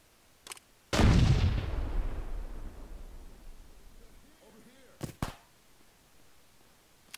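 A demolition charge detonates in the military shooter ArmA 3 as one loud, close blast that rolls out into a long rumbling decay, with a few sharp gunshot cracks before and after it.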